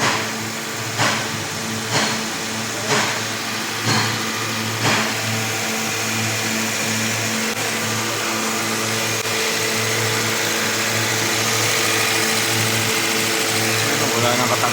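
A Subaru Forester engine runs steadily after a new timing chain, chain guide and tensioner are fitted, with a constant mid-pitched hum and a few light rhythmic knocks early on.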